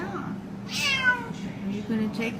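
A cat gives a single clear meow close by, a short rising and falling cry over quiet room background.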